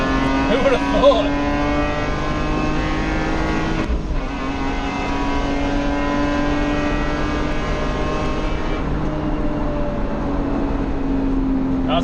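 Lexus IS200 on a drag strip run, its engine droning steadily with rising and falling pitch as it changes gears, heard continuously from nearby at moderate loudness.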